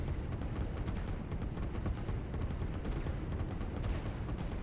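Dense, continuous artillery fire and gunfire rumble from the strategy video game Line War, a steady barrage of overlapping blasts at even loudness with no pauses.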